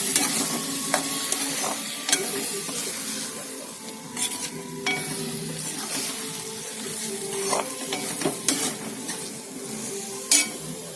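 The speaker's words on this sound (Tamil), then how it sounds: "இப்போ இதை நல்லா உதிரா வர்ற வரைக்கும் கிளறி விடலாம்." Beaten eggs with turmeric and cauliflower sizzle in a frying pan while a spatula stirs and scrapes, with occasional clinks against the pan over a constant close frying hiss.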